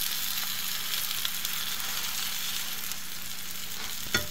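Steady, soft sizzle of a sandwich of bread browning in a frying pan, a continuous hiss with faint crackles, close by and with no talking.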